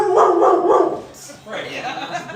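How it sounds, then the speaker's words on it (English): A dog barking indoors: a couple of loud, close barks and yips mixed with a person speaking, the barking overlapping the voice through the short stretch. "dog!"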